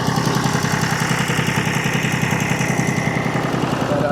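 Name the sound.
John Deere 830 utility tractor engine running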